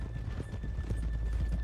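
Horse hooves clip-clopping at a slow walk in Red Dead Redemption 2, steady rhythmic thuds close by over a constant low background hum.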